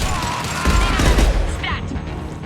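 Gunfire erupts in Mass Effect 2 combat, a dense burst of rapid shots clustered in the middle, loud over a steady background of battle noise, with a brief voice in the mix.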